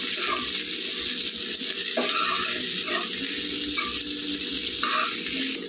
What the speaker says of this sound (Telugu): చూసారండి, అలా వేగుతున్నాయి నూనెలో.